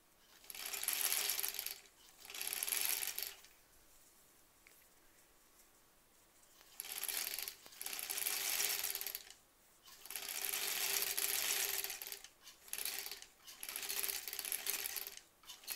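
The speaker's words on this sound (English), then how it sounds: "Try and close up that zipper again now." A zipper on a fabric zipper pouch is drawn closed in a series of rasping pulls, several bursts separated by brief quiet pauses, close by and fairly loud.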